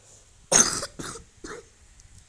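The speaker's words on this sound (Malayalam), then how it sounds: "ചുമയാണ് ഗൈസ്" A single harsh cough close up, followed by two smaller coughs or throat clearings trailing off.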